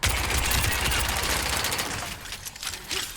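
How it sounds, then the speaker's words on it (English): Rapid automatic assault rifle fire from an Overwatch 2 skin's weapon effect, a dense loud burst of shots that trails off into scattered echoing tails near the end. "I also love the assault rifle sound effect"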